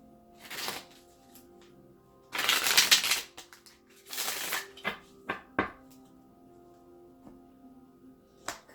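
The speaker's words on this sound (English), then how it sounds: "One more shuffle, please." Tarot cards being shuffled close by in several bursts: two long riffling shuffles, then scattered taps and thumps as the deck is squared, no talking.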